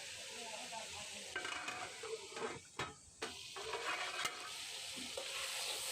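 Masala for a mixed vegetable curry sizzles softly in a pot, with scattered close scrapes and knocks of a spoon stirring it, faint overall.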